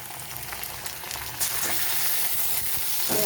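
Ginger-garlic paste sizzles and fries steadily in hot oil, a continuous crackling hiss close by, with occasional stirring scrapes and no voices.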